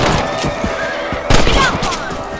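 Rifle shots ring out in the Red Dead Redemption video game during a ranch shootout, a few sharp close cracks amid horse whinnies and game sound effects.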